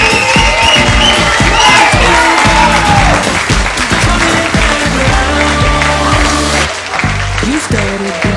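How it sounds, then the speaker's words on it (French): Loud, sustained applause and cheering from a party crowd celebrating the treasurer of a banda at its twentieth anniversary, with whoops and a voice speaking over the clapping before it thins slightly near the end. "Vous pouvez encore les applaudir"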